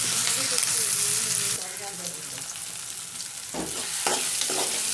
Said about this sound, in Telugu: కొంచెం అల్లం తలగడి మాత్రం బాగా వేగాల